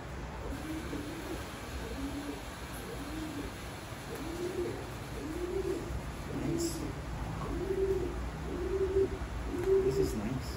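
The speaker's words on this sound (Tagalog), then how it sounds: "Top pigeon." Racing pigeons, newly arrived breeders from Belgium, coo in soft, repeated low throaty phrases about once a second, fairly close, over a faint room hum with a little distant talk.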